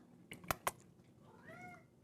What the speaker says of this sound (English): As you can hear, the kitties are alive and well today.